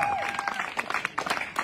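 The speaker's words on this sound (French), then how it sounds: "On peut l'applaudir très fort." Brief burst of audience clapping at a competition results announcement, steady and fairly loud, mixed with a sustained musical tone and a voice at the start.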